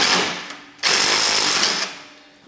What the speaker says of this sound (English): the best thing to do is use an impact